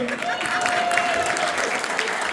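Steady clapping from a crowd at a 2025 march in Watertown, Connecticut, continuous and moderately loud outdoors, with a thin whistle or tone briefly audible over the applause.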